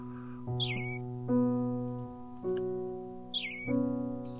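A chubby little robin in a video game chirps in several clear, tonal calls with sliding high notes, spaced about a second apart and sounding close against a quiet backdrop.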